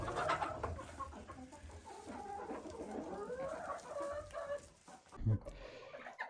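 Chickens cluck and chatter close by in a busy, continuous stream at evening feeding, with a short thump near the end.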